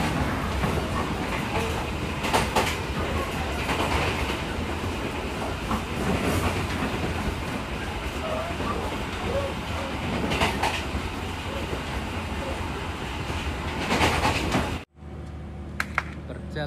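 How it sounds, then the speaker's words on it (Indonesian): Onboard the Penataran commuter line train in East Java, a steady loud rumble of wheels on track with recurring clickety-clack joints, running continuously before cutting abruptly to a quieter cabin hum near the end. "Jalanan KA Komuter Line Penataran sudah tiba di stasiun Tanggulangin."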